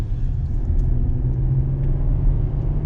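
A 2020 Chevy Colorado's 3.6-litre naturally aspirated V6 idling or running, a steady low rumble heard from close by with no other sounds.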